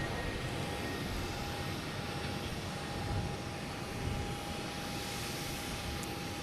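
A Delta Embraer E175 jet heading to JFK at Boston Logan Airport gives a continuous broad engine roar with a thin steady whine, holding an even, fairly loud level throughout with no voices.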